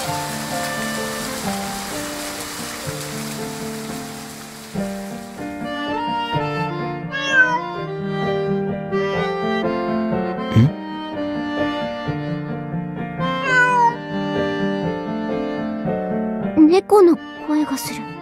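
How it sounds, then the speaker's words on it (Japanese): A friendly cat gives several short meows that rise above a steady music bed, with light rain-like hiss at the start and no talking. "うん、猫がいる。"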